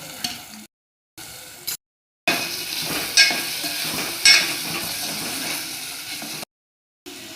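Chicken pieces for a spicy Kolhapuri chicken curry sizzle loudly in a hot pan, a close crackling hiss with a few sharp pops, broken by short silent gaps.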